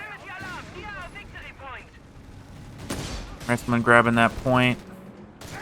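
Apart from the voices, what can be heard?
anti-tank gun fire in Company of Heroes 3 video game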